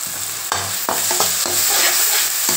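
Chili powder stirred into softened frying tomatoes in a pan, with a steady sizzle and several distinct scraping strokes of the spoon at a close, even level, no voices.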